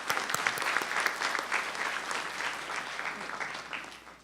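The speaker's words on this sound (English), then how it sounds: "Give her a round of applause." An audience at an evening school information session claps warmly and steadily for a speaker being introduced, a moderate round of applause that swells and then gradually tapers off.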